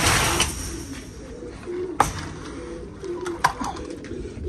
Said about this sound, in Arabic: هاي الطيره الجولدن